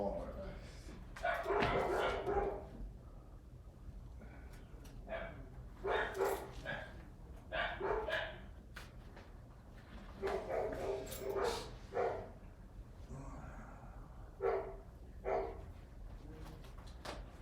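Friendly house dogs barking and yipping in scattered close bursts, sometimes several at once, with people talking nearby between the barks.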